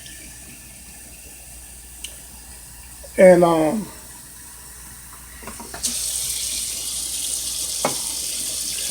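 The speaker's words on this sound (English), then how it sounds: "And then I'm going to put some water in here." Water pours into a crock pot holding Great Northern beans and salt: a brief clatter, then a steady close splashing stream that runs to the end, with a single spoken word early on.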